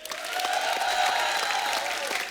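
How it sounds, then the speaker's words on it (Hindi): Strong applause from the studio audience of a Hindi comedy talk show, sustained dense clapping at an even level for a couple of seconds with some crowd noise beneath. "जोरदार तालियां पाजी के लिए।"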